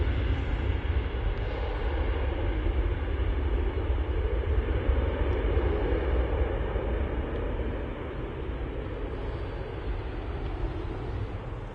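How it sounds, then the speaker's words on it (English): A Lufthansa Airbus A321neo airliner arrives at Manchester Airport, its steady broad engine roar holding loud and continuous for the whole stretch before easing slightly toward the end. "Looks like a Lufthansa came in as well during all of that. The A321neo."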